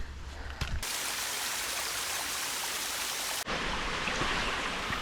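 A waterfall on the West Highland Way in Scotland roars as a loud, constant rush of falling water, starting abruptly after a brief quieter moment and continuing without pause.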